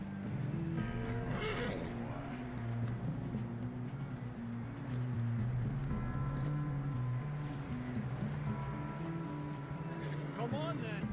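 A horse neighs and whinnies in the video game Red Dead Redemption 2, its calls rising over a steady bed of game ambience with low droning tones throughout.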